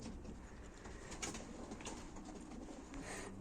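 Tumbler pigeons coo faintly in a loft, soft repeated low calls buried under a constant noisy background with no talk.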